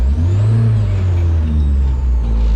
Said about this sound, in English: So I'm just gonna vary the throttle a little bit, data logging